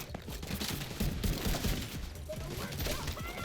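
Gunfire rattles in The Division 2 video game, rapid bursts of shots layered over low thuds and a dull background rumble, steady and dense throughout.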